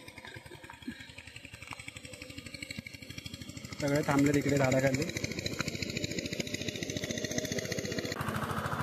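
A tractor ploughs a rice paddy in heavy rain at Mahabaleshwar, its steady engine chug running under people talking and swelling louder through the middle.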